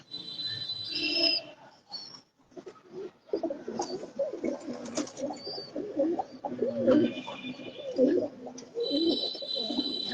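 Pigeons on a home rooftop coo in repeated low, throaty rolls, fairly close, with a few brief whistling and fluttering sounds mixed in and short pauses between calls.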